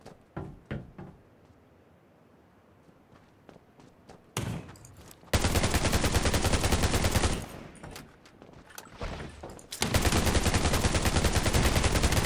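Gunfire in the game Undawn: scattered sharp shots and knocks early, then loud dense bursts of rapid firing that fill the space, pause briefly, and resume hard toward the end.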